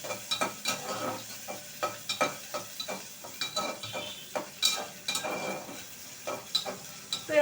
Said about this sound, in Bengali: তো আমি একটু নেড়ে নিলাম।